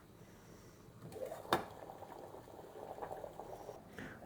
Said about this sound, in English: We need to let these boil for about 10 minutes.